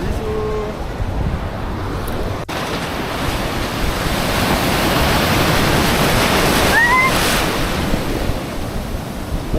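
Big ocean waves breaking on large rocks, a continuous loud roar of surf and wind with a steady wash of spray, close and dominant, alone with no voices.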